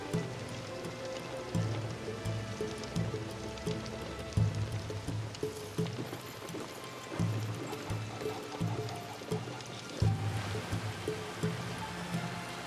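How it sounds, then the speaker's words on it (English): Heavy rain falls steadily in Assassin's Creed during a 1582 escape scene at Iga, a dense continuous hiss with scattered dull thuds and splashes throughout. "The rain can mask our escape."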